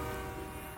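A train passing close by with its horn sounding, a brief loud blast of sustained horn tones over rumbling rail noise.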